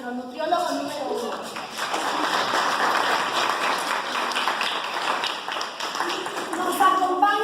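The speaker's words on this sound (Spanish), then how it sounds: "Un fuerte aplauso para nuestro nutriólogo número 1." Audience applause for a nutritionist at an expert panel on lipids: a steady wash of clapping at moderate volume for the full stretch, with a voice briefly heard near the start.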